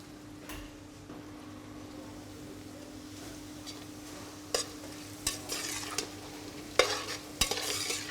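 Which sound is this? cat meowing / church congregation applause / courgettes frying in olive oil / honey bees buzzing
courgettes frying in olive oil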